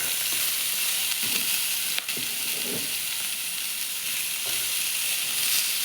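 Tomatoes and green chili sizzle steadily in a hot pan, a continuous loud frying hiss with a few soft stirring scrapes, no voices.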